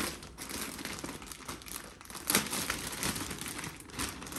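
Plastic wrapping crinkles and rustles up close as a package of slippers is opened, continuous irregular crackling with a sharper tear midway.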